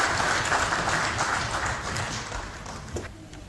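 Audience applause welcoming a speaker at a Pakistan Day celebration, a dense wash of many hands clapping, loud and steady, tapering slightly near the end.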